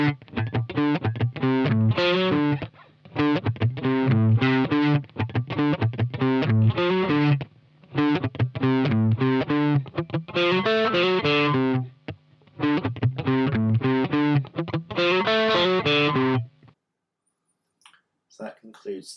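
Electric guitar plays the eight-bar verse of a song with effects and distortion, in choppy, rhythmic single-note phrases broken by short gaps, loud and close, then a brief silence at the end.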